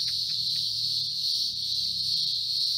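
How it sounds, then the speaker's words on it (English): Cicadas drone outdoors in Australia, a dense continuous high-pitched buzz heard through an open window, steady and moderately loud with faint low background noise beneath. "in Australia we have cicadas going off their bloody heads right now outside"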